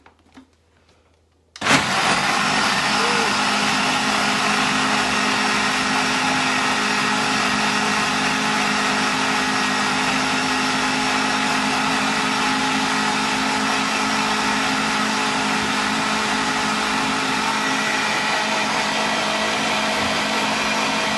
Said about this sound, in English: So you blitz it up until it's nice and smooth.